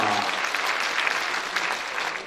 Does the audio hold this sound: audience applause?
yes